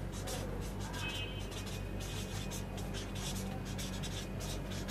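Hand-writing numbers during a sixth-grade math lesson on natural numbers and place value: soft, continuous scratching of a pen or marker over a writing surface, steady and close, over a constant low background hum.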